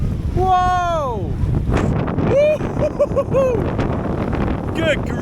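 Strong gusts of nearly thirty knots roar across the microphone aboard a small sailboat, a loud, buffeting rush that stays heavy throughout, with voices calling out in rising whoops over the wind.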